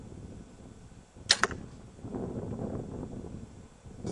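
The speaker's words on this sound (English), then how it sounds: "Let's go ahead and shoot this bow." A Limbsaver DZ-32 compound bow, a 2008 model, fires outdoors with a single sharp, close snap and a brief rattle, set against faint wind and rustling.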